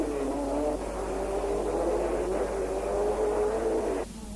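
1959 racing cars lapping an airfield circuit on wide-open runways, a steady loud engine drone with rising revs, holding close and continuous before easing off near the end.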